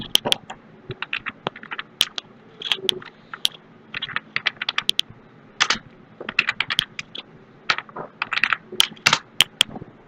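Fingers type on a computer keyboard in quick irregular bursts of sharp clicks and clacks, close and fairly quiet, with short pauses between runs of keystrokes.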